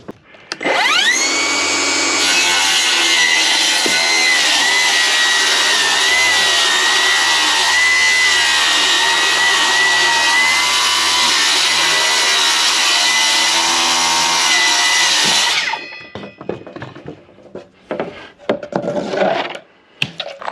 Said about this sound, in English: I'm gonna mark it real quick, and then we will rip it with the skill saw